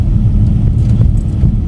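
Steady low rumble of a car interior while driving home, a continuous close engine and road drone with faint rattles on top, no talking.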